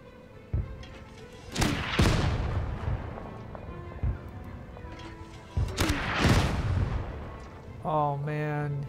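Mortar fire in the tank strategy game Total Tank Generals, during a Rommel campaign battle of Operation Crusader: two loud, heavy booming blasts several seconds apart, each with a rumbling tail, plus smaller thuds in between.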